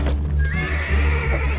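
A horse in the video game Mount and Blade: Warband gives a loud, close whinny that rises and wavers, with hoof clip-clops underneath.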